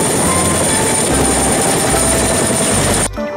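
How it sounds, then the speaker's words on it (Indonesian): Steady, loud whirring rotor drone of a toy military helicopter, continuous and close, cutting off abruptly at the end. "ini helikopter militer"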